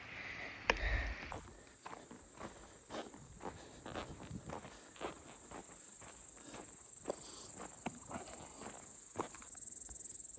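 Crickets chirp steadily on a Pacific Crest Trail hiking path, with a sharp high-pitched insect drone running throughout, a brief loud knock near the start, and soft scuffing footsteps recurring under it.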